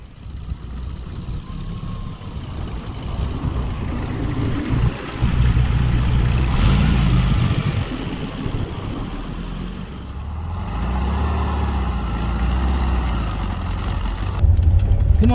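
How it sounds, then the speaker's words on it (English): 1974 VW Beetle engine with new carburetor jets running during a test drive, a continuous rough low engine drone that rises and surges in places, close and fairly loud, with a sharp burst near the end. "get this thing off the jack stands, take it for a test drive, see if it's got better power"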